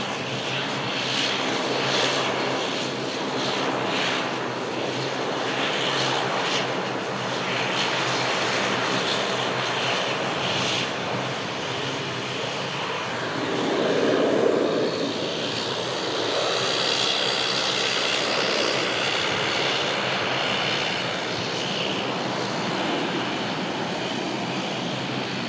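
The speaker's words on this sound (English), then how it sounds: "Absolutely love these aircraft." Engines of a passing fixed-wing airplane roar steadily and loudly at an airport, a broad sustained drone that swells and fades gradually.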